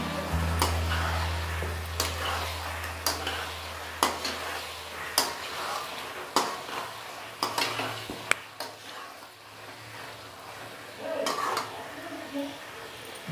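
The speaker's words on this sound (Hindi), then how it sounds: "अभी हम चिकन को इसके अंदर डाल देते हैं हमने सारे चिकन इसके अंदर डाल दिए अब इसे मिक्स करेंगे" Chicken is being mixed into sizzling masala gravy in a pan, with a spoon knocking and scraping at regular intervals over a constant frying hiss and a low hum at the start.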